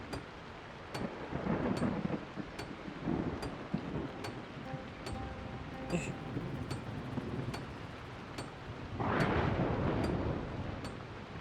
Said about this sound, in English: That's why it's gonna be raining right now.